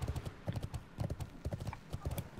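Horse hooves clip-clopping at a steady trotting rhythm as a character rides through the Worgen starting area in World of Warcraft, close and continuous throughout.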